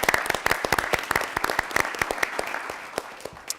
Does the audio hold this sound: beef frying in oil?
no